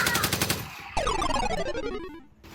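A rapid burst of game-style gunfire rings out in a kids' version of a Squid Game elimination round, followed by a sweeping electronic tone. The sound is brief, loud and close.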